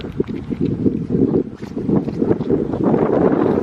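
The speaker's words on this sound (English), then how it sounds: "There's the wind kicking up again" Strong wind gusts outdoors beside an abandoned one-room schoolhouse, buffeting the microphone in a loud, continuous low rumble with surging swells.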